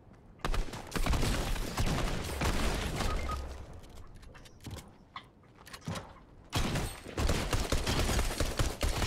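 Pistol gunfire rings out in Fortnite, dense bursts of sharp shots piling into loud, continuous barrages with a few brief lulls between volleys.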